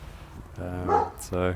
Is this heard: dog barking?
yes